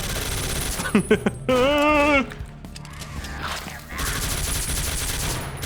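Automatic gunfire rattles out in the video game Ashes: Dead Man Walking, with quick bursts of shooting from the hip followed by sustained firing mixed with other in-game effects.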